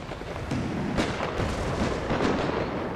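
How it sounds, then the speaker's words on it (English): Cannon artillery fires into a hillside during an American Revolution battle in a strategy video game, heard as a continuous loud rumble of overlapping booms, with sharper blasts standing out near the one, two and two-and-a-half second marks. "We can also see the cannons are bravely firing their shots directly into the side of the hill."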